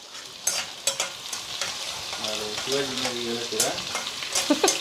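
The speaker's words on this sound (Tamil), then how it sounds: "நல்லா வந்து வதக்கி விட்டுக்கலாம்" Small red onions (shallots) sauté in a hot pan, giving a steady sizzle under repeated stirring scrapes and sharp utensil knocks. A brief faint voice sounds midway, and no clear speech stands out.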